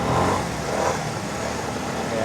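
A 2021 Vespa motor scooter being ridden, its engine humming steadily under loud rushing wind noise throughout, with a person talking over it.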